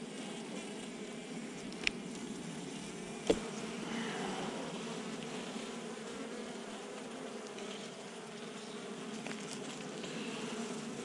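Honey bees at an apiary colony hum in a steady, faint, close buzzing drone, with a couple of small clicks and no speech.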